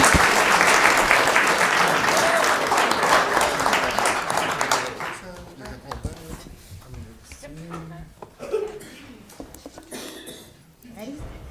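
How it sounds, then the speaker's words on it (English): Loud audience applause at a city council meeting honoring a director, steady clapping for about five seconds before fading into scattered claps, murmurs and a few voices. "A huge round of applause for Director Welsh."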